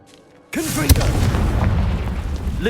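The Confringo fire spell from Hogwarts Legacy goes off after near silence: a sudden deep boom with a sharp crack just after it, then a rumbling, crackling tail that holds loud until the end.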